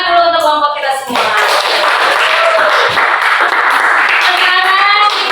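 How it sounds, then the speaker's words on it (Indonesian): Students in a grade eight Arabic language classroom clap together for the groups, loud, close, rapid hand claps following a brief spoken voice at the start. "Sekarang kita tepuk tangan dulu untuk kelompok kita semua."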